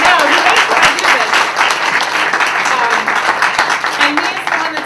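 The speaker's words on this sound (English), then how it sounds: "I would like, actually, if we could just start with a round of applause for Jackson Taylor" Sustained audience applause at an event about a prison writing publication, with a dense wash of clapping hands that stays loud and even throughout.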